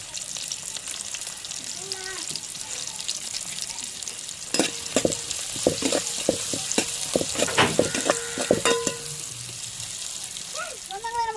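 Steady frying sizzle of onions and green chillies in a pan, with clinking and scraping of stirring in bursts and a faint voice in the background.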